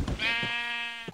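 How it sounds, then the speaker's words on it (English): A single sheep bleat from the video game Minecraft, one short wavering call heard close and clear with nothing else around it. "Oh, there's a sheep. There's a sheep right here."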